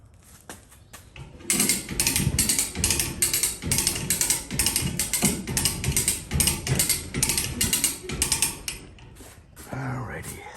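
A hook hoist lifts the front end of a riding mower that has a noisy blade bearing, giving off a loud run of rapid ratcheting clicks in bursts before trailing off into quieter mechanical rattling.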